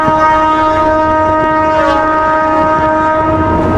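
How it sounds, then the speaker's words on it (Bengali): A local passenger train from Bihar Sharif to Rajgir sounds its horn, loud and steady, over the rumble of the moving carriages. "মাত্র দশ টাকায় বিহার শরীফ থেকে রাজগীর যাচ্ছি এই লোকাল ট্রেনে"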